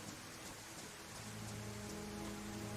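Heavy rain pours steadily in the video game DayZ, a continuous dense hiss with a low rumbling undertone, no voices.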